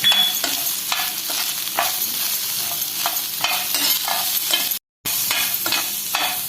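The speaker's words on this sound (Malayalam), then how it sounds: "ലോ ഫ്ലെയിമിൽ വെച്ച് നമുക്ക് മിക്സ് ചെയ്ത് കൊടുക്കാം." Cheesy corn with pepper powder stirred in a pan over a low flame: loud, repeated scraping strokes over a constant sizzle, with a brief cut near the end and no voices.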